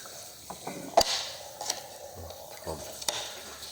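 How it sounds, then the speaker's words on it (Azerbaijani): Liquid boils and bubbles inside the channels of a combine harvester during cleaning, a soft, steady seething broken by several sharp pops and crackles at irregular moments. "Bax, görün necə qaynayır."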